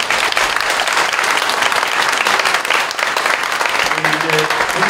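Congregation applauding during a service in a Korean church, dense steady clapping that fills the room throughout, with faint voices and a low tone near the end.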